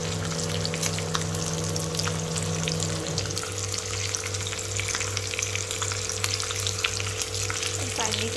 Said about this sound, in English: After my garlic and onions have been sauteed, I will add in my capsicum,